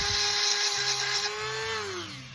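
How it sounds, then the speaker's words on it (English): High-pitched whine of a rotary tool sharpening a chainsaw chain from a Husqvarna 445 X-Torq, running steadily up close then dropping slightly in pitch as it slows near the end, alone without talk. "that's kind of how I jam it in there to sharpen these chains"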